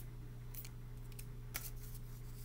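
Scissors snip through a strip of tape, two or three quick crisp cuts standing out over a steady low hum in a quiet room.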